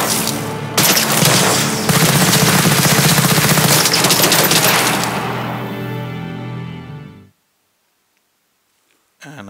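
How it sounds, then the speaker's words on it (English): Loud sustained gunfire in a combat scene from a Snowdrop engine game demo, a dense rattling barrage with booms that gradually fades out, then near silence before a brief final burst. "when you're experiencing the world and we are in combat and you're shooting"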